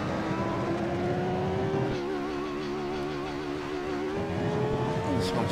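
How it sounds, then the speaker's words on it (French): BMW-engined Formula 1 car in the Assetto Corsa racing game, its high engine whine climbing steadily, dipping at a gear change, then revving up again, loud and continuous with no talk over it. "c'est le moteur BMW qui propulse cette F1"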